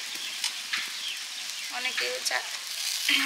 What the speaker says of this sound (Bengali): ঝোল ফুটে যেতেই শাকটা দিয়ে দিচ্ছি।